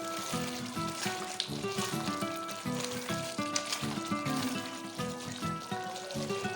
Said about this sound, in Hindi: इनको अच्छे से हम टमाटरों के अंदर भी भून लेंगे।